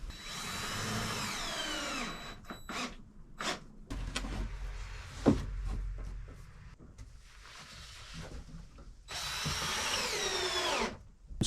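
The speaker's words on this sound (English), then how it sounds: "I'm screwing together substructure 1 at the moment." A cordless power drill driving screws into the wooden substructure of a camper van cupboard, whirring in two near, loud runs at the start and end, with clattering handling noises between.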